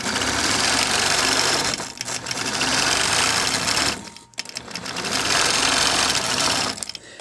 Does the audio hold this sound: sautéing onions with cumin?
no